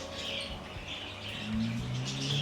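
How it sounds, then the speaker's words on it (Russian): Parrots chirp and tweet in a garden centre's parrot section among potted palms, a steady mix of close bright calls over a busy background murmur. "тут попугайное царство"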